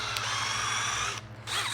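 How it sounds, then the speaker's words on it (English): A power drill with a 5.5 mm bit bores through a part to fit an M5 bolt, a loud steady whine that dips briefly near the end before resuming, with no talk over it. "I'm gonna drill through it and just like mount like an M5 bolt or something"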